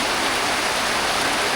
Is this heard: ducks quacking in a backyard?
no